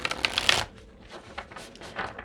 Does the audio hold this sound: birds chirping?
no